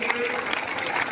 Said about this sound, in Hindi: आप ताली में कंजूसी ना करें, ताली दें, जोरदार ताली।